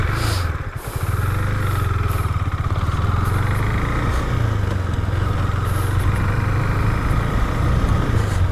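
A 2020 KTM Duke 390 BS6 motorcycle engine runs steadily close by, a dip at the start giving way to a continuous throbbing idle and rev as it gets going.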